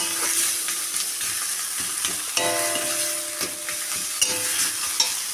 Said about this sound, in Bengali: এবার আমি ভালো করে নেড়ে জলটাকে একদম টেনে নেবো